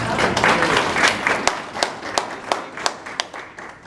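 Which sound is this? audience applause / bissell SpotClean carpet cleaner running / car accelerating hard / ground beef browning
audience applause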